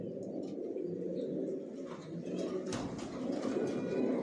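Racer pigeon squabs of a large long-bodied breed coo and murmur continuously at close range, a dense low rumble of several birds with occasional rustling, no talk.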